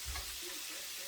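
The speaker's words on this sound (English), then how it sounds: "Still frying wings" Chicken wings frying for honey-glazed wings, a soft, steady sizzle of hot oil with a faint low thump near the start and no talking.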